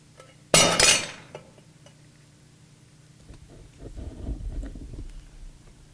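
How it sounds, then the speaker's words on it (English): A pot of grease is dropped, giving one loud close clatter with a ringing metallic crash that fades over half a second. Quieter shuffling and low rumbling knocks follow later. "I've dropped a whole pot of grease."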